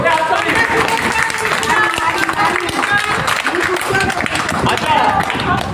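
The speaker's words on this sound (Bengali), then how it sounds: "হ্যাঁ, জোরে হাততালি।" Audience at a gathering honouring a national yogasana championship fifth-place finisher claps loudly, dense continuous applause with voices mixed in throughout.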